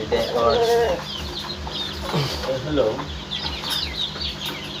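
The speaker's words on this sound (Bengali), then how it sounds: "এটা হলো একটা মোরগ এ হলো ইয়ে কেউ বেলজিয়ামও বলে" A Belgian breed rooster clucks close by in short, uneven bursts over a low steady hum, with a voice speaking faintly at times.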